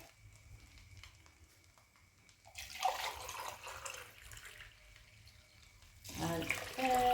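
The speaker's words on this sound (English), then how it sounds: "so I will go in with 4 cups of water" Water pours from a tap into a pot for cooking rice, a faint trickle growing into a steady rushing stream in two bursts, close and alone without talk.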